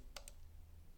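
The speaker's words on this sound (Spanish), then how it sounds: "el relé cuando se acciona, cuando se aplica, cuando usted oprima acá, va a escuchar un clic" An electromechanical relay switches with a pair of quick, sharp metallic clicks close together, near and brief against quiet background hum.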